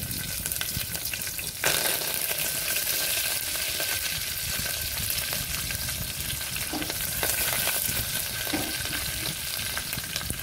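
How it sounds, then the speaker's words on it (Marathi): Green chili and curry leaves hitting hot oil with reddened garlic in a home kitchen pan, a loud, steady close sizzle that crackles on throughout, with occasional stirring and no talk. "आता यामध्ये आपण मिरची आणि कढीपत्ता टाकणार आहोत"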